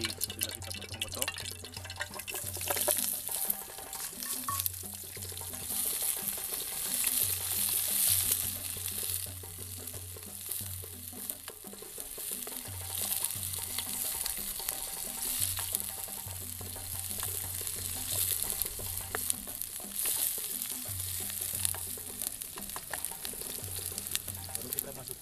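Mushrooms and chopped ingredients fry in oil in a pan at a forest survival camp, giving a steady, close sizzle with occasional stirring and crackles throughout.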